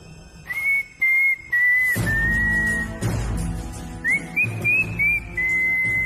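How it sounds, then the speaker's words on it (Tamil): A person whistles a tune in a series of sustained, sliding notes, some short and clipped, others long, over a dramatic music bed. "என்னடா விசில் அடிக்கிற?"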